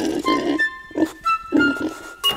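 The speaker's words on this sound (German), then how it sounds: "auf dieser Farm hat er ein Schwein" A pig's oinking sung within the Old MacDonald farm song in German, short voiced grunting bursts repeating in a bouncy rhythm over a backing tune.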